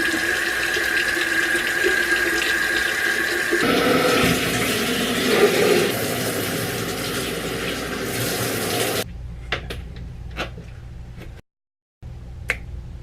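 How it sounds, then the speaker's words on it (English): Running water rinsing hair with dreadlocks, a steady close hiss of spray and splashing that changes tone midway, then gives way to scattered drips and small splashes with a short silent gap. "So right now, I'm gonna just rinse my hair off."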